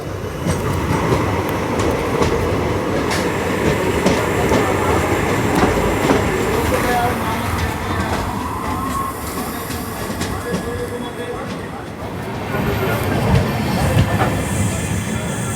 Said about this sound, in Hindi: यहाँ पे हमारी ट्रेन की क्रॉसिंग हो रही है मनमाड़ काचीगुड़ा अजंता एक्सप्रेस के साथ